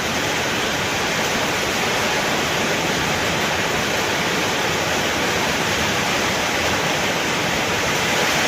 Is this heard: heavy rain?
yes